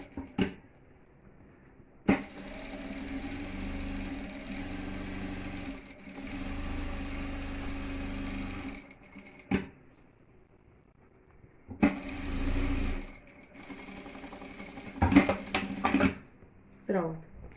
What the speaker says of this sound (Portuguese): eu já posso vir fazendo uma costurinha aqui de segurança, ó, em volta dele aqui todinho